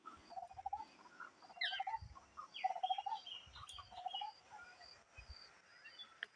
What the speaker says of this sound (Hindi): आवाज़ आ रही है चिड़ियाओं की।